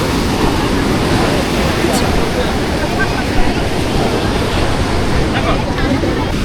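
Big ocean waves crash and roar continuously on Puri beach, loud and close, with wind buffeting the microphone and a voice faintly under the surf.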